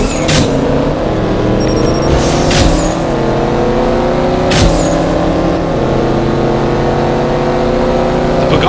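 A Pagani Huayra engine in the CSR Racing mobile game roars loud and close, holding a sustained drone with several sharp gear-shift bursts and rising revs, and no talk over it.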